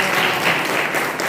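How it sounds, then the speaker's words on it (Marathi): An audience at a cultural program of songs bursts into dense applause, a brief loud wash of clapping with no pauses. "तुम्ही जोरदार टाळ्या होऊ द्या आता"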